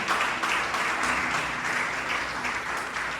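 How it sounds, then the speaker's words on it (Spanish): Church congregation at a Spanish-language worship service breaking into a strong, sustained round of applause, a dense even wash of many hands clapping without a break. "Den ese aplauso fuerte a Jesús."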